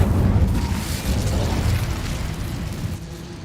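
Incendio fire spell cast in Hogwarts Legacy, a steady loud roaring whoosh of flame that holds for several seconds with a rumbling low end, no voices over it.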